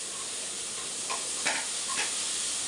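Green chilli frying in a pan for chicken fried rice, a constant close sizzle with a few brief stirring scrapes over it.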